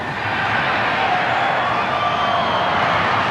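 A stadium crowd at a 1991 Winfield Cup rugby league match cheers after a try: a dense, sustained roar of many voices, steady and loud for the whole moment.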